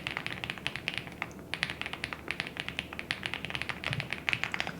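A limited-edition mechanical keyboard with linear violet switches is typed on in quick, light, clicky taps, close and quiet, at an uneven rhythm with no talking.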